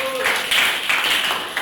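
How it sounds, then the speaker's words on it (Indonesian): Classroom applause for a student group, a steady wash of many hands clapping at close range for under two seconds, with a teacher's voice speaking over it. "Tepuk tangan untuk kelompok 5."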